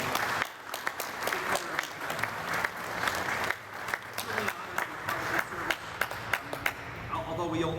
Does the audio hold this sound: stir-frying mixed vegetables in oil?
no